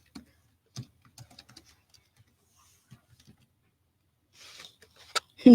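Keys being typed on a computer keyboard in soft, scattered clicks and short bursts, fairly faint and sparse, with brief muffled sounds and a louder noise at the end.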